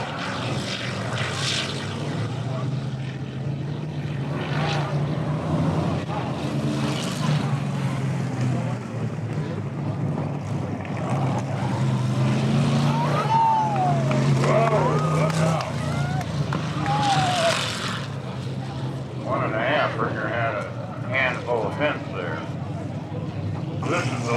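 Vintage IMCA oldtimer race cars running a lap at a village exhibition, their engines droning steadily at a distance under a public-address voice speaking throughout.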